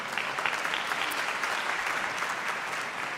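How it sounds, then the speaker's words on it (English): Audience applause at a university commencement ceremony, a dense, steady wash of many hands clapping that holds evenly throughout without pause. "you're clapping"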